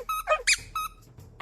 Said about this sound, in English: He had all the squeaky toys he could want